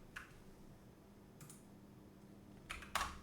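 A few quiet, scattered keystrokes on a computer keyboard, with short pauses between them and a slightly louder double click near the end, set against a faint background hum.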